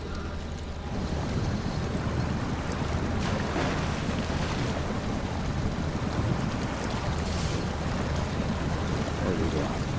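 A truck in SnowRunner ploughs through water, a continuous rushing wash and splash with low engine rumble that holds steady after a quiet first second.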